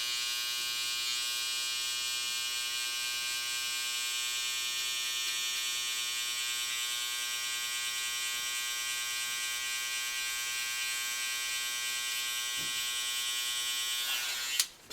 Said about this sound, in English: Now we're gonna go in with the trimmer because we did use the shaver on it.